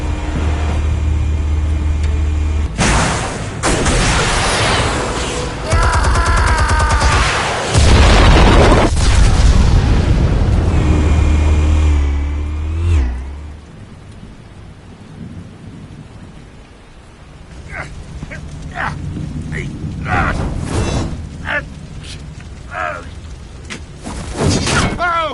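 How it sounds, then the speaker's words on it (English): Explosives firing and blowing up in a Batman scene: loud, sustained rumbling blasts and booms across the first half, then a quieter stretch with scattered crackling debris and a few sharp impacts, with some voice. "Explosives armed. Fire when ready."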